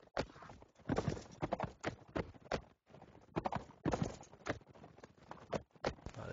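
Horse hooves in a video game, a rapid galloping clatter of clip-clop beats in bursts, fairly faint and steady across the stretch.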